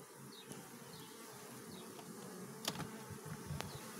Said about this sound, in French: Donc forcément ça bourdonne, hein, c'est des abeilles, ça a des ailes.